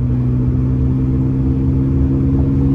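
Continuous engine drone and low hum from a car climbing Highway 18 toward Big Bear, California, steady and close with no voices.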